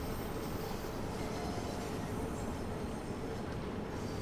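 A London Underground Bakerloo Line train in the game Train Sim World 2 running at speed, giving a loud, continuous rumble and rail roar with no clear breaks.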